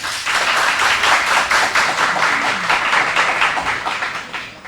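Audience applause for a high school team at a quiz competition, a dense, steady clapping that holds loud for several seconds before tapering slightly at the end.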